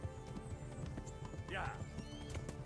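Horse hooves clip-clopping and a short whinny in Kingdom Come: Deliverance during a horse race, the neigh rising midway over steady game ambience with talk throughout.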